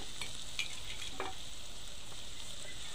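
Onions and small bommidala fish frying in a pan for a Telangana-style fish curry, a steady close sizzle with brief stirring scrapes, no voices.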